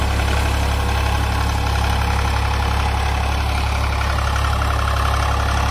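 A worn 1999 Swaraj 735 FE tractor engine drones loudly and steadily up close while pulling a tiller and harrow, a continuous low rumble with no breaks.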